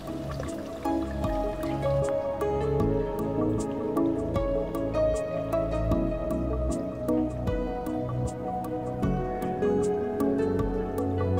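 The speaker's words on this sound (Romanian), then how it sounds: "aici pârâiașul curge și îmi place cum se aude apa" A small stream trickles and babbles nearby, with frequent bright drips and splashes over a steady watery flow, no voices.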